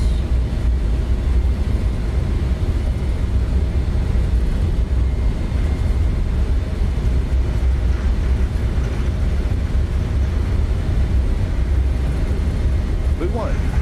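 An Embraer E195 cargo jet rolls and lifts off at night in a flight simulator, its engines giving a steady, loud, broad roar that holds unchanged throughout while a voice calls out over the noise.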